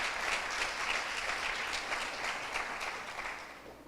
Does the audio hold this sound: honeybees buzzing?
no